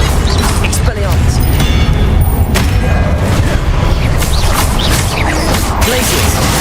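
Expelliarmus and other combat spells cast in the Hogwarts Legacy video game. Dense, continuous booms, crashes and whooshing magic effects play loudly throughout, with a voice talking over the fight.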